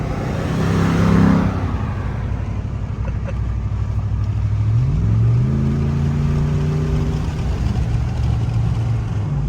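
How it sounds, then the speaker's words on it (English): A Dodge Durango SUV with a Hemi engine pulls up alongside, its deep engine note rising as it accelerates, heard over the steady road rumble of another truck, with no talk. "We got the Durango pulling up beside us here. Mom's rolling that Hemi."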